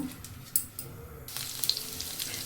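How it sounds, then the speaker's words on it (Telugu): Paneer pieces dropped into hot oil in a home kitchen, a soft sizzle rising into a steady frying hiss partway through, with a few light clatters. "నూనె కాగిందర చూసుకొని ఈ ముక్కలన్నీ ఇలా వేసేసుకోవాలి ఈవెన్గా వేగుతాయి అన్నీ కూడా"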